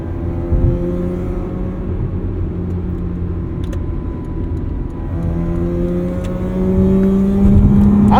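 A 2009 Mazda RX-8 engine pulls hard under acceleration, a loud, steady in-cabin drone whose pitch climbs through the revs, dips briefly at a shift, then rises again toward the end.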